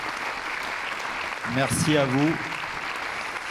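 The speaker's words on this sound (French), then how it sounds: "Je pense qu'on peut les applaudir, qui ont organisé cette journée." Audience applause for the organisers of a regional associations assembly plenary, a steady crowd clapping wash with a voice speaking briefly over it midway.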